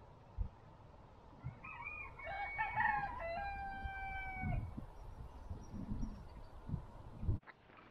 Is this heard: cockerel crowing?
yes